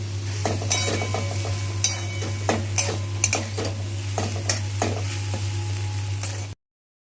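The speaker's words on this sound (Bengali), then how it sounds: "ভেন্ডিগুলো দিয়ে দেওয়ার পর আমি ভালোভাবে ভাজবো" Okra (bhindi) stir-fries in a pan, sizzling loudly while a spatula repeatedly clinks and scrapes against the metal, then the sound cuts off abruptly into silence.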